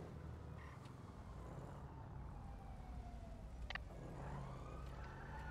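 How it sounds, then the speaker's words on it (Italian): Police sirens in a video game wail faintly in the distance, their rising and falling tones partly masked by a low, steady rumble of traffic or engine noise. No one speaks. "Io sento delle sirene."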